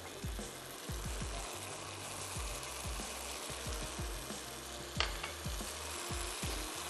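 Prawns sizzle and fry in a pan with soy sauce and vinegar, a steady crackling hiss with repeated low knocks of stirring against the pan, and no talk.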